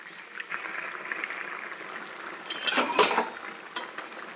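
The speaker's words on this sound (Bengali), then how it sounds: "মাছগুলো দিয়ে দিচ্ছি, এবার আমি একটুখানি ফুটতে দেবো মাছের মধ্যে ঝোলটা ঢোকার জন্য।" Rohu fish curry simmering in a pan, a soft steady bubbling hiss with clinks of utensils against the pan, louder scraping and stirring bursts toward the end.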